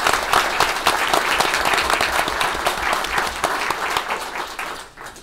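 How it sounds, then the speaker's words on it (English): Audience applause at a township committee meeting, dense sustained clapping from a crowd in a hall, loud at first and gradually thinning before fading out near the end. "Let's give her a round of applause."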